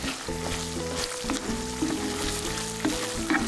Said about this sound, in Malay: Boleh masukkan 1 batang serai yang dititik.